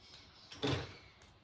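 An interior door at home is pushed shut once at bedtime, making a single moderately loud thud with a short rattle, close by and alone against quiet room tone.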